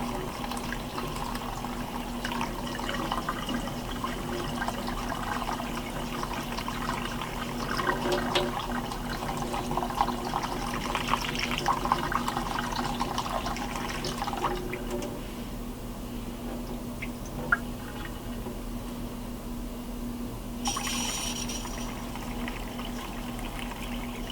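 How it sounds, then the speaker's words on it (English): Tap water runs steadily into a pot of rice being rinsed for rice balls, a continuous close splashing wash that holds through most of the stretch before easing off near the end. "Slowly turn the water on. Let it rinse all that away."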